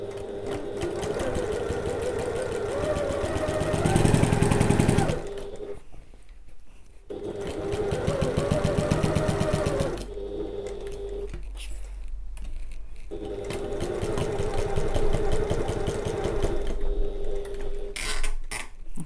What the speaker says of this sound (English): We're only sewing through the pocket layers here.